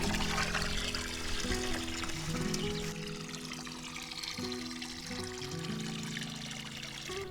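Water is poured gradually into a form in a small garden on a farm, a continuous rushing splash that stays loud and steady throughout.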